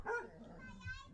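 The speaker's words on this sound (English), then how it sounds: "The dog seems surprised and continues barking." A dog barking in a ghost video, one faint muffled bark near the start followed by quieter whimpering tones, distant and low in level.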